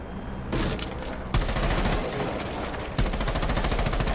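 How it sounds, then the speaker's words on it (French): Automatic gunfire from the operator Caveira in the Rainbow Six tactical shooter game, with dense rapid bursts that keep restarting, loud and close across the whole stretch. "c'est Cavéra toi qui tire en plus"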